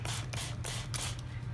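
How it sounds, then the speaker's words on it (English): A spray bottle mists water onto the back of a pre-gessoed canvas in several quick soft hissing bursts, close and fairly quiet, with no talk. "I spray a little bit of water on the back,"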